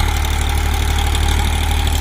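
A Massey Ferguson 245 tractor, a 2020 model with a 50 HP engine, idles steadily with a low, continuous diesel rumble and an even throb that stays loud and close throughout.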